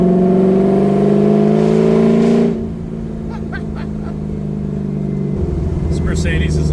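An LS3-swapped Camaro V8 roars loudly on a dyno with a high, steady rev that drops abruptly partway through, then settles into a lower drone before building again.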